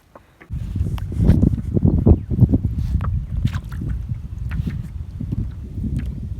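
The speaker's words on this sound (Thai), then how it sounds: "โอ้ลมแรงจัด" Strong wind buffets the microphone while fishing with a bamboo rod from a small boat, a loud low rumbling gusty roar with irregular thumps and rustles that keeps going, with no talking.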